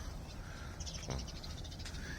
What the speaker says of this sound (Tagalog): may ibon pa